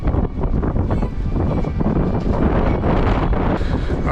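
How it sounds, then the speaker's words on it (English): Strong, cold wind buffets the microphone continuously outdoors in a park in Athens, a loud rumbling roar with gusty rustling throughout. "it's too cold and windy"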